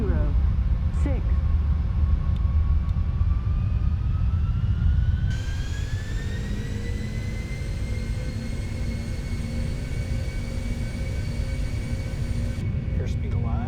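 Four jet engines of a PMDG Boeing 747-406F(ER) KLM Cargo freighter in the Prepar3D simulator spool up on a takeoff roll from runway 06, a loud, steady roar with a rising whine that climbs smoothly in pitch after a few seconds.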